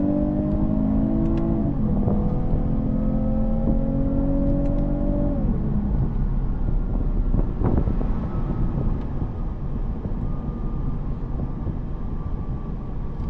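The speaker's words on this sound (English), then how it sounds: "The owner of the vehicle told me he wants me to rev out the car" A 2022 Lexus IS 350 F Sport AWD revs hard under acceleration, its engine note climbing in pitch, dropping at a gear change, then rising again, all over loud wind and road roar heard from inside the car.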